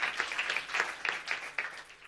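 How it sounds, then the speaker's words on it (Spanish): Brief burst of clapping from a stand-up comedy audience, a loose patter of hands that stays moderately loud and close for about two seconds, with no talk over it. "¡Aplauda!"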